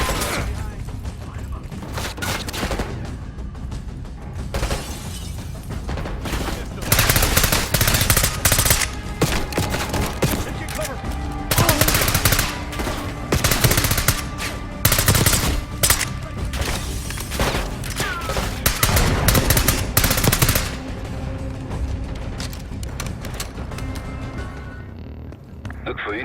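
Sustained Call of Duty Black Ops 6 gunfire, continuous automatic bursts and heavy shots with mechanical clatter and occasional booms, loud and dense throughout with voices speaking at times.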